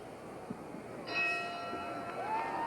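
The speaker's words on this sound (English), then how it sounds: "The bell for round 1." A boxing ring bell rings once for round one of a heavyweight bout between Muhammad Ali and Buster Mathis, a clear sustained tone ringing out over the low murmur of an arena crowd.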